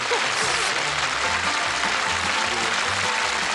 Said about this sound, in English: Let's give him a nice clap.